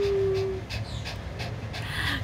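Pet dogs pant indoors during a live stream, with quick, rhythmic breathy puffs, fairly soft and close, mixed with a brief whimper-like tone and light background noise.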